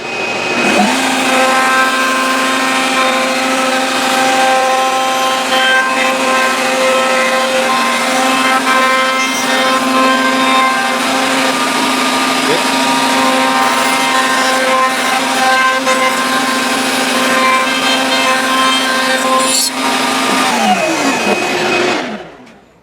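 A router cuts a 1/4 inch round-over edge on a wooden scrap-wood guitar, a loud sustained high whine that holds steady for about twenty seconds before spinning down.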